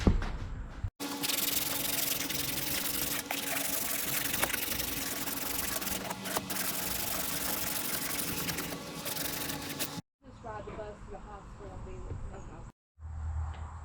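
Long stretch of steady rasping sanding on a spinner bait fishing lure, close and continuous with slight rhythmic strokes, followed by brief quieter scraping after a pause.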